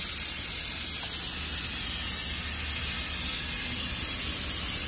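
Pressurized pump pushing transmission fluid through a hose into the pan of a GMC Sierra AT4 during an ATF service, a continuous loud spraying hiss that holds steady throughout, with no talking.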